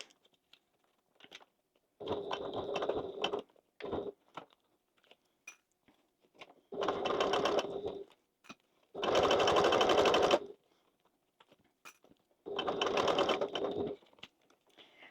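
A sewing machine top stitches denim in five separate runs of rapid, even stitching, each a second or two long, with quiet pauses and small handling clicks between them.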